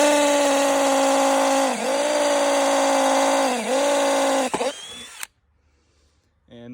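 Milwaukee M12 Fuel cordless drill boring with a 1/2 inch bit: a loud, close, steady motor whine that sags twice under load, then stops abruptly and leaves near silence.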